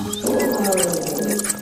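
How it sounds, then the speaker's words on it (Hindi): A cartoon lion, angry and caught in hunters' net, lets out a loud, sustained roar lasting over a second, layered with bright tonal accompaniment. "गुस्से में आकर शेर जोर जोर से दहाड़ने लगा।"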